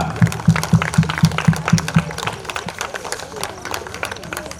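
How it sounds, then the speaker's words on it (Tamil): An audience at a Pongal and Republic Day sports prize ceremony applauds a winner, opening with a run of slow, rhythmic group claps that spread into looser scattered clapping while people talk nearby. "நல்ல கைதட்டுங்கய்யா."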